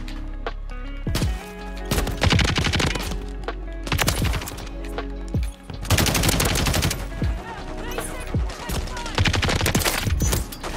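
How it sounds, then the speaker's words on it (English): Rapid bursts of Eradicator LMG fire in a Modern Warfare 3 multiplayer match, loud, close and sustained, broken by brief gaps as the shooting starts and stops. "That's what you expect from an LMG. Fast fire and slow mobility."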